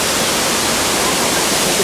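Rushing water at Bridal Falls on Manitoulin Island, a steady broadband roar heard close up and unbroken for the whole moment, with no voices.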